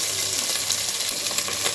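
Ginger-garlic paste hits hot oil with curry leaves and onion for a Nellore fish curry, giving a steady, close sizzle of frying with a bright hiss throughout and no talking.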